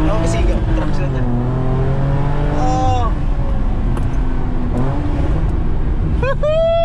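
A V6 car engine accelerating hard, its pitch climbing and dropping through gear changes, loud and close, with people talking and shouting excitedly over it during a night of street testing.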